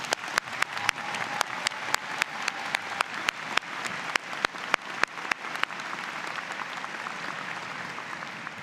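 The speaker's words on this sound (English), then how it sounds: "Let's give them a great round of applause." Applause at a spring university convocation ceremony, a broad wash of crowd clapping with many sharp, distinct claps standing out up front, going on steadily and easing slightly toward the end.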